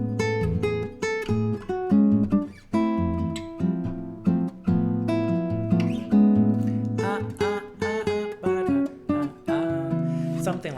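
A guitar plays a melody straight as written, plucked notes and chords in a steady, slightly halting rhythm with sustained bass tones, close and clear for about ten seconds with no talking.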